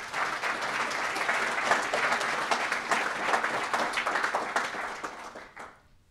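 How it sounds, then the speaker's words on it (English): An audience at a talk about Gin applauds a contributor named Volker, with dense steady clapping from many hands that holds for about five seconds before fading out at the end. "Another applause, please,"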